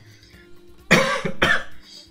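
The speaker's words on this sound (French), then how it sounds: "Désolé d'avance pour cette petite toux un petit peu chiante." A commentator at a Smash Bros. tournament broadcast gives two sharp, close coughs, one right after the other, above a quiet background.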